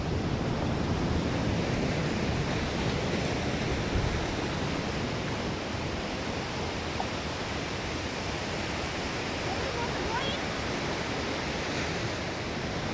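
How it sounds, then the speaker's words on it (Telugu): Ocean surf rolls onto a sea beach in a steady, broad wash of sound, with constant breaking waves and some wind noise throughout. "ఇదిగోండి బీచ్, సముద్ర బీచ్ చూడండి ఎంత బాగుందో."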